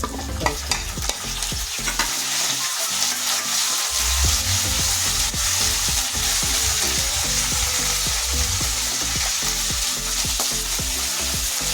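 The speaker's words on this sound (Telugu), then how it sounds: "ఇవన్నీ బాగా వేగుతున్నప్పుడు" Curry leaves and spices fry in hot oil for lemon rice, giving a loud, steady sizzle with repeated stirring and scraping in the pan throughout, no talking.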